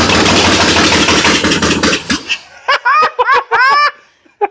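Engine of a 1963 Jeep CJ5 with open heads, rebuilt after being torn apart, roaring loudly under throttle for about two seconds and then cutting out, followed by bursts of laughter.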